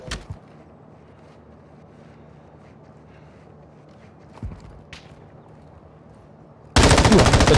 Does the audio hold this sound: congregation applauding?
no